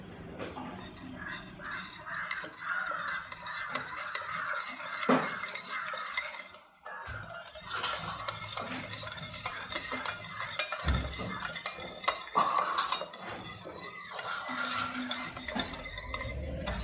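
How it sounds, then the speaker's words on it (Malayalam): A spoon stirring orange juice, custard powder and sugar in a bowl, with repeated clinks and scrapes against the sides in an uneven rhythm, near and fairly quiet. "നമുക്ക് നന്നായിട്ട് മിക്സ് ചെയ്തെടുക്കാം."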